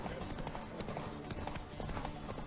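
Horse hooves clip-clop steadily in The Witcher 3, a quick, even gallop rhythm running the whole time at moderate loudness, with the game's ambient noise and a voice beneath it.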